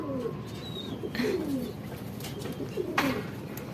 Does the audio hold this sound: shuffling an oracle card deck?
no